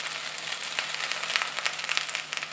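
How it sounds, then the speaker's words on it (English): Okra (bhindi) fries in a pan with a steady, bright sizzle and scattered crackles and pops, close and continuous, with no voices. "The bhindi has been frying in the pan for about 8 minutes or so"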